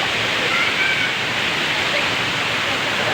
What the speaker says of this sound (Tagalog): dito sa Inambakan Falls